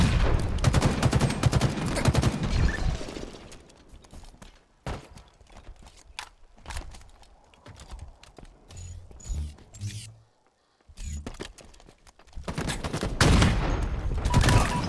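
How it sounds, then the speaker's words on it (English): Gunfire in a video game tournament match, including sniper shots, with sharp cracks and bursts of shooting mixed with game noise, loud near the start and end. "Burger coming around mid, taking out Ronaldo with the sniper."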